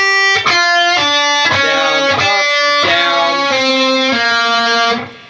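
A distorted electric guitar plays a quick lick from the Ten Seconds To Love solo, with a run of clearly picked and pulled-off notes including a double pull-off, loud and ringing before fading at the end.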